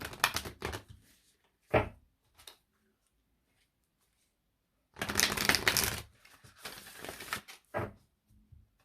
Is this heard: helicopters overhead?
no